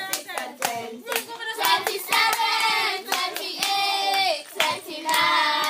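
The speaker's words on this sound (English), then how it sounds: "the sounds of the school children playing playground games during lunch" Children clap hands in a playground clapping game at school lunchtime, quick rhythmic claps in steady bursts, with young voices chanting and counting numbers along with the beat.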